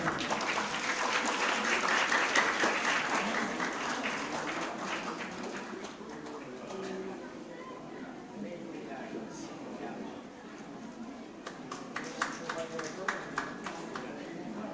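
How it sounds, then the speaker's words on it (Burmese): Congregation applauding at a diocesan thanksgiving celebration in a church, dense clapping loudest in the first few seconds and then thinning to scattered claps under talk and murmur. "လက်ခုပ်တီးပြီးတော့မှ"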